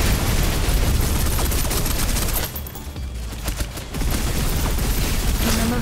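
Dense, sustained suppressive gunfire from the video game Snowbreak, a loud continuous barrage of rapid shots that dips briefly in the middle before resuming at full intensity.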